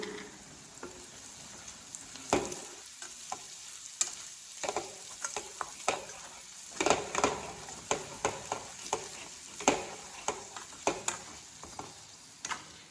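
Curry with garam masala is stirred in a pan over steady frying sizzle, with a spoon scraping and clicking against the pan in uneven strokes, fairly faint and close.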